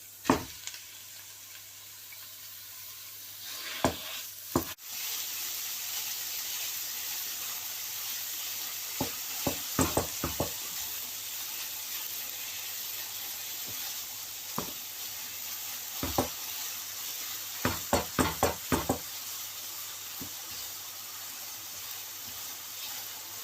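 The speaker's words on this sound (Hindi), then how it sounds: "अब हम इसमें कीमा डाल देते हैं।" Mutton mince goes into a hot pan and is stirred with a spoon, a steady close sizzle running throughout, broken by scattered scraping and clinking strokes of the spoon.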